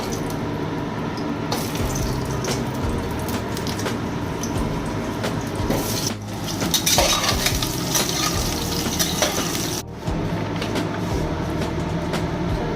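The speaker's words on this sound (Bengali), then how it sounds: "আমি প্রথমে আলুগুলো ভেজে নিচ্ছি।" Potatoes frying in hot oil in a home kitchen, a steady dense sizzle running throughout with a brief dip and a louder burst midway, no talk over it.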